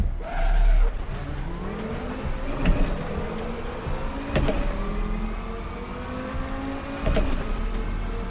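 Race car engine in RaceRoom Racing Experience on the Nordschleife, droning loudly with rising gear pulls and brief tire squeal, shifting at regular intervals, heard without speech.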